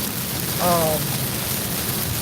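Heavy rain pours steadily in a dense, even hiss that stays constant throughout, with a brief faint voice-like sound near the start.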